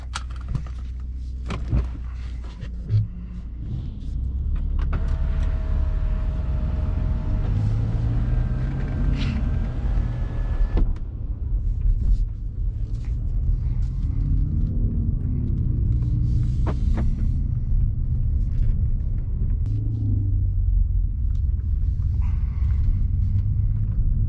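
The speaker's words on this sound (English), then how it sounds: "Now let's go ahead and buckle up, take it out for a drive." A 2017 Mercedes-Benz C43 AMG 4Matic pulls away and drives, its steady low engine and road rumble running continuously with a few faint clicks and knocks in the cabin at the start, no talking.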